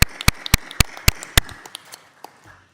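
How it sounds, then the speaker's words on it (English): Applause in a congressional committee hearing room during a bill markup: a few sharp, loud claps that spread into a brief, thinning patter of scattered clapping, with no voices. "we'll give you a round of applause for coming to see us"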